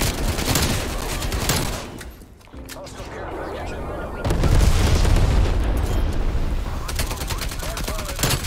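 Semtex grenade detonating in Call of Duty: Black Ops Cold War amid rapid game gunfire, with a deep boom in the middle of a crackling fusillade of shots and bursts from nearby weapons.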